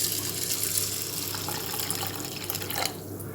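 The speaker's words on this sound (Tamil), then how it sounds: "அவல் எடுத்து இப்போ தண்ணி ஊற்றி ஊற வச்சிடலாம்" Water poured from a vessel onto red flattened rice to soak it, a short close splashing and trickling stream that runs steadily and tapers off at the end.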